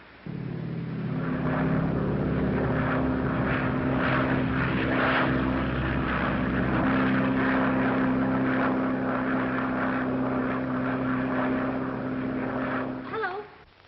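A propeller airplane drones steadily overhead in a 1937 flood-disaster setting, a loud, sustained engine hum holding for most of the stretch before cutting off near the end.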